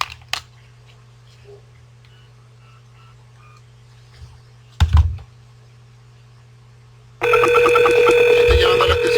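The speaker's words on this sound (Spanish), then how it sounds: "Voy a llamar desde la extensión análoga al teléfono ZIP." A telephone rings on a call placed from an analog FXS extension. A quiet room with a few clicks and a knock gives way to loud, continuous electronic ringing that starts near the end and keeps going.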